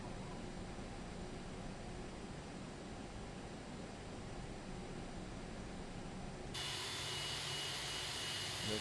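A jet airliner taking off in the Prepar3D flight simulator, heard as a steady, broad roar from the engines that swells suddenly louder and brighter toward the end, continuous and without talk.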